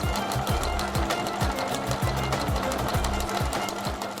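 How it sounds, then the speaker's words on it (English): A sewing machine stitches rapidly at close range, its needle producing a fast, regular mechanical chatter that repeats evenly throughout, loud and steady with no voices. "I tried to use the sewing machine as much as I can"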